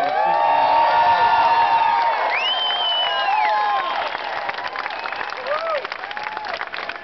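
A large crowd cheers and applauds at an Atlanta political rally for Clay Cox, Republican candidate for Georgia's 7th District. The dense, loud clapping with whoops holds steady throughout and eases slightly toward the end.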